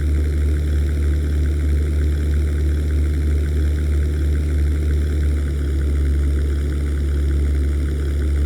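Propeller aircraft engines droning in the 1998 flight sim European Air War, a Luftwaffe fighter in formation near an airbase; a steady, loud, continuous hum with strong low rumble runs unbroken throughout, no voices.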